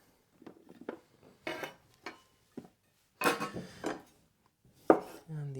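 A knife slices through half a cucumber on a board, producing a handful of separate, fairly close cuts and knocks spaced irregularly between quiet pauses, with a faint tone at the very end.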